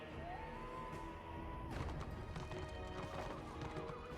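Hooves clip-clop steadily from a mounted horse in the fantasy online game Warhammer Online, a continuous rhythmic trot mixed with game ambience and a brief crash partway through.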